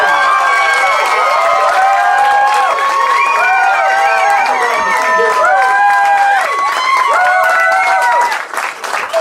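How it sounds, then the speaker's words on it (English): A comedy club audience applauds and cheers for a comedian, with dense clapping and whoops from the crowd that stay loud and continuous before thinning at the end. "Please clap it up for Chi Dixon"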